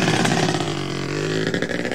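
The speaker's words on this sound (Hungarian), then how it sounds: "Most jöhet a motorhangzás!" Motorcycle engine revving loudly and steadily from a motorbike gang in a Simpsons cartoon scene, with dense mechanical roar and a few sharper rev bursts near the end, no talk.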